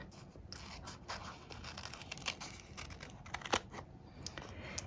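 Scissors snip through a paper splatter image being cut out for card making, giving a series of close, faint crisp cuts and rustles that grow a little sharper toward the end.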